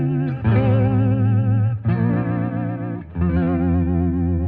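Guitar through a very fast vibrato effect giving a warbly, wavering pitch, three sustained strummed chords ringing loud and close, each cut by a brief gap before the next.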